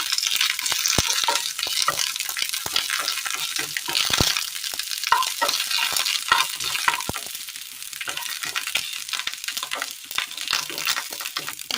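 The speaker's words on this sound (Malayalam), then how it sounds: "ഉള്ളി ഒന്ന് ചെറുതായി വാടി വരുമ്പോൾ അതിലേക്ക് കറിവേപ്പിലയും വറ്റൽമുളകും ഇട്ട് കൊടുക്കാം" Curry leaves and dried red chilli sizzle in hot oil with softened onions for a Kerala-style curry, a steady close crackle with scraping stirring strokes throughout.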